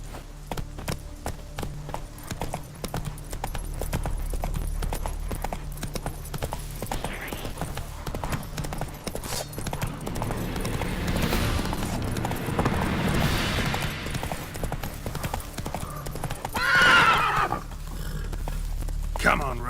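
A horse gallops in The Witcher 3, steady clip-clopping hooves running throughout with a rising neigh and a rider's voice urging it on over game music.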